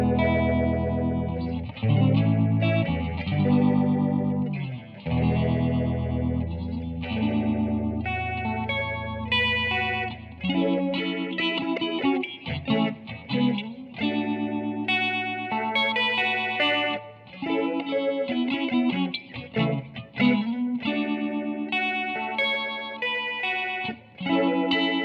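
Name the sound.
Warm Audio Mutation Phasor II guitar pedal, slow phaser setting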